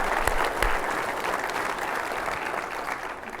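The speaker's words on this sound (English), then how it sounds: "If we could just have one more round of applause for our two keynote speakers." Conference audience applauding two keynote speakers after an automotive chip talk, a dense, loud round of clapping filling the whole moment before it slowly eases off.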